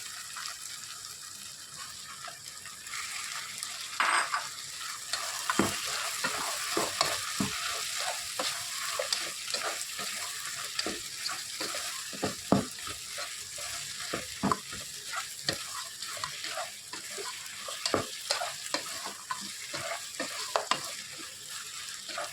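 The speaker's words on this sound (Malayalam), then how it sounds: "വെളുത്തുള്ളിയും ഇഞ്ചിയൊക്കെ ഒന്ന് വഴന്ന് വന്നിട്ടുണ്ട്" Garlic and ginger sauté in hot oil in a pan for a mutton curry, a continuous close sizzle broken by frequent sharp stirring scrapes and clinks of a spoon against the pan, with no talking.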